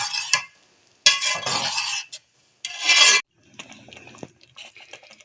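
A spoon scrapes and stirs chili flakes into thick plum chutney in a bowl, giving two loud, close rasping bursts, then a softer, fainter scrape.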